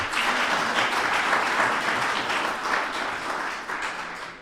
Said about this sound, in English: Join me in giving them a huge hand of applause.